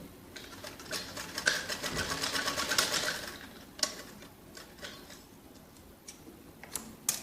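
A sewing machine stitches the folded strip edge of a jacket frock, a soft ticking mechanical patter that builds into a short run of rapid stitches, then trails off into scattered clicks.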